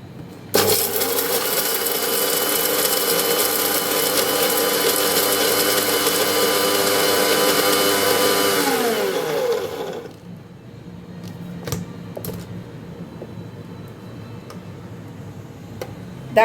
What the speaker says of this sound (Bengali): আমি ব্লেন্ড করছি।